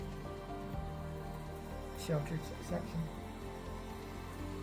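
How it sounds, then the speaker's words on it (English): Light rain patters steadily but faintly at St Mary's Loch near a locked-up yacht club, a soft continuous hiss, with a brief voice speaking over it partway through. "Absolutely, it is properly raining now. Not heavy, but it's just raining."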